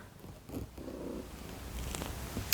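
A small cat purrs softly up close, a faint low rumbling throughout, with a few light rustles and no speech.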